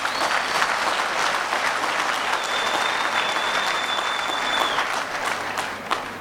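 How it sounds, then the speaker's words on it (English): Sustained applause from mourners at a funeral for Numsa metalworker shop stewards, a steady dense wash of clapping lasting several seconds with a faint whistle-like tone threading through. "we must give a very big hand of applause to the sacrifice"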